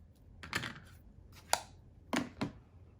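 Scissors trimming satin red ribbon on a handmade card, giving a few quiet, close, crisp snips in a short irregular series with no talking.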